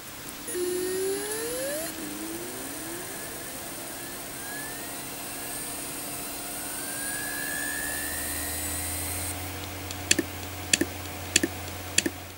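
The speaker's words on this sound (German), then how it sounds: "Der Kopf versucht zu starten, aber er geht immer wieder zurück." A faulty hard disk drive with its power-on contact bridged rises through a spin-up whine and a steady motor hum, then gives several sharp, evenly spaced head clicks near the end as it keeps retracting. No one speaks.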